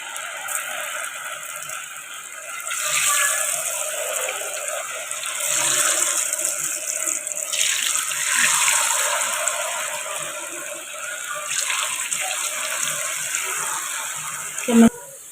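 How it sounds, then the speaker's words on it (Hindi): Potato fries for a crispy homemade recipe frying in hot oil in a home kitchen, a steady broadband sizzle and bubbling hiss that swells in waves, with a sharp clatter near the end. "और अब देखिए ऑयल बिल्कुल गर्म हो चुका है। अब हम इसमें जो है वो फ्राइज़ डालेंगे।"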